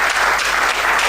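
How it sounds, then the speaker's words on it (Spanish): A church congregation applauds loudly during a worship service, producing a dense, steady wash of many hands clapping together with no break. "Dele un aplauso fuerte a la presencia del Señor."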